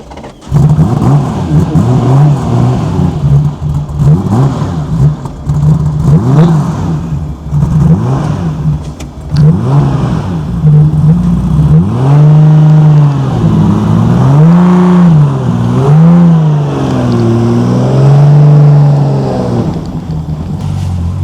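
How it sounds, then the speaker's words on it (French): A loud Porsche race car engine revs hard again and again at launch, around 4000 rpm, its pitch climbing and falling in repeated surges before holding a high, sustained roar. "Il faut la mettre à 4000 tours minute pour qu'elle commence à avancer."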